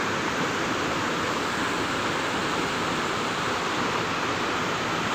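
Elappally waterfall pouring steadily, a dense, loud and unbroken roar of falling water heard up close with no other sounds.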